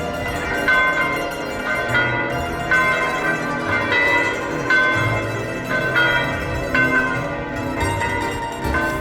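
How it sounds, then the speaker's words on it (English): Church bells in Rome, near the Vatican, peal repeatedly in an overlapping, rhythmic cascade, loud and ringing with long resonant tones, no voices present. "The bells are ringing."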